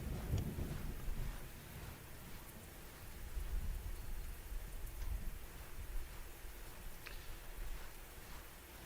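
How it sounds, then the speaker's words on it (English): A rainstorm with thunder in the Civil War strategy game Grand Tactician: steady, faint hissing rain with low rumbles of distant thunder rolling underneath, continuous throughout. "this is a real rainstorm here"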